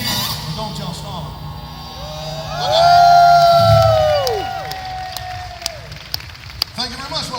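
A festival crowd at Glastonbury cheers for a comedy music act, the roar swelling loudly to a peak and then fading, with shouts and whistles riding on top.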